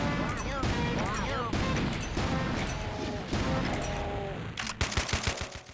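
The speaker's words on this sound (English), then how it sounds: "And in the end I still had to shoot him with the assault rifle." Assault rifle fire in Doom: The Golden Souls 2, shot against a Baron enemy, a loud dense stream of gunfire and crashing effects mixed with a voice talking over it, ending in a handful of sharp separate shots.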